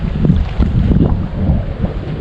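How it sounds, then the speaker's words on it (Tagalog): Wind buffets the microphone on a small fishing boat at sea while fishing for ajing, giving a loud, rough, low rumble in gusts across a short stretch. "Ang problema lang talaga mahangin."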